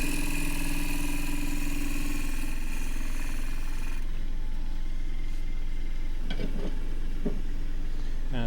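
A wood lathe spins a kauri pine piece while a scraper shear-scrapes its surface, giving a steady dense whirring rasp that drops to a quieter hum after about four seconds, with a few brief scraping bursts near the end.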